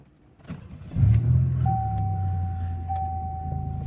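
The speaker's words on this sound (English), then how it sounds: "So, what you need to do is you need to start the vehicle." A 1990-92 Oldsmobile Toronado Trofeo engine cranks and catches, settling into a steady idle close by, with a faint electronic tone whining over the running engine.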